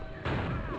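One sudden, heavy airstrike explosion booms in the X-Men Legends II PS2 video game, a loud, abrupt blast that rumbles on briefly.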